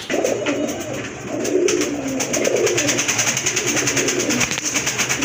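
Rajgolla fancy pigeons coo steadily and close by, with soft layered throaty calls running through the whole stretch, without any talk.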